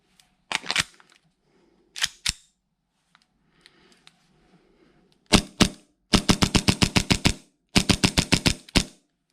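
A gas blowback airsoft pistol with a TTI Hot Wheels Hicapa housing, firing with a gas magazine and no BBs: loud, close sharp cracks, a few single and paired shots, then quick rapid strings of about ten shots each.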